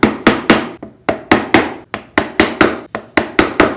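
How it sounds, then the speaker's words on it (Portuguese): A small wood chisel struck with a mallet to mark out a mortise square in wood, about fifteen sharp, close knocks in a quick, slightly uneven rhythm, with no talking. "Eu coloco o chanfro do formão do lado de dentro do buraco, do quadrado, e vou com o lado reto batendo nas paredes."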